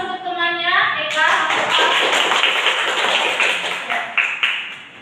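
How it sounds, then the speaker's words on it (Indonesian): Classroom applause for a student in a micro-teaching class, a burst of many hands clapping close by, steady and loud for several seconds after a speaking voice, then tapering off. "Ya, beri aplaus untuk temannya Eka."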